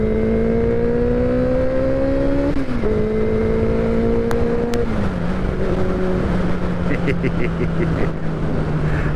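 A project motorcycle engine runs steadily, its droning tone stepping down in pitch as it settles. The sound stays loud and close throughout, with faint clicks riding on top.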